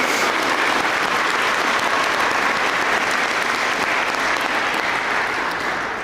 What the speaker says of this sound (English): Can we get a round of applause for that too,